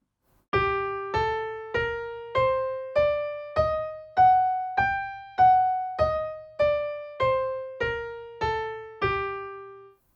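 A G harmonic minor scale, with a raised seventh, played as fifteen separate struck notes that rise and then fall back at a steady pace, each one decaying before the next, with no voices.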